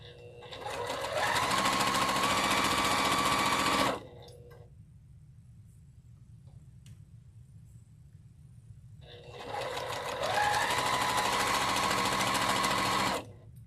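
A sewing machine stitches fabric pieces in two loud, steady bursts of about three seconds each, separated by a quiet pause filled with low room hum.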